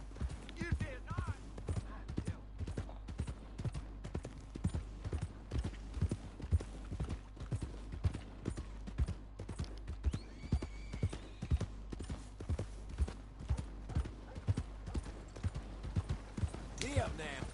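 Horse hooves clip-clop in a steady, repeating rhythm through the Red Dead Redemption 2 video game, close and fairly loud, with a horse whinnying briefly and game characters talking over the hoofbeats.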